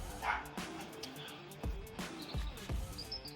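Several dogs bark and yip in short, scattered bursts during an indoor home workout. Thumps and a steady background hum run underneath.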